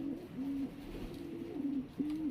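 An old breeding songbird, kept as breeding stock for champion birds, gives repeated soft cooing calls, several drawn-out notes in a slow rhythm, close and fairly quiet against a faint background hiss, with no talking.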